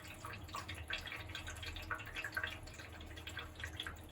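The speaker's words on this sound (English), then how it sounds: "It has a drip." Water drips steadily from the leaky sump sluice of a Miele Professional WS5073 washing machine, small close plinks landing in an irregular rhythm over a low background hum.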